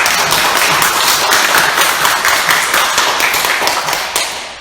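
Church congregation at a Sunday worship service applauding together, dense sustained clapping from many hands that fades toward the end, with a faint voice underneath.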